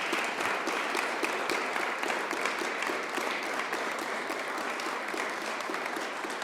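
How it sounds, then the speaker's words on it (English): An audience at a business event gives sustained, evenly textured applause for members of Kwame Building Group coming forward, a broad continuous patter of many hands clapping throughout. "Give them a round of applause as they come."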